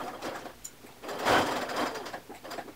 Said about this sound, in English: then we're going to stitch right across there